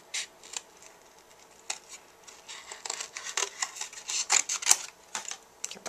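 Scissors snip around stamped paper in a run of close, crisp cuts that grow busier and louder toward the end, with no talking.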